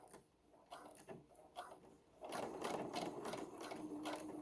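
A sewing machine back stitching on pajama shorts, opening with short stop-start stitching runs and then a steady continuous hum of stitching, close but fairly quiet, with no voices.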